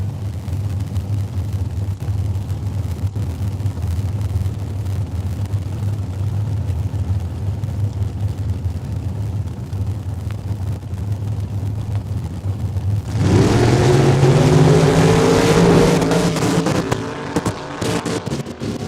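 A top band dragster races down the drag strip at Saskatchewan International Raceway: a low distant engine drone builds, then a loud roaring pass swells up near the end and fades.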